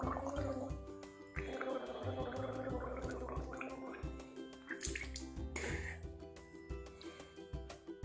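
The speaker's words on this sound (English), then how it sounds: "Get your child to gargle it by taking a sip of warm water." A child gargles warm water, making a bubbling, throaty sound that runs almost without break, close and clear.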